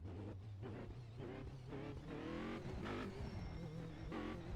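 Race car engine in a sim racing game at Spa, driven on a Simagic Neo X round wheel, revving up and down through gear changes with rising harmonic whines, loud and steady throughout, no talk.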